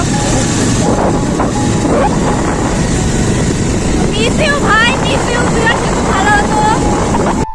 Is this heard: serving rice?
no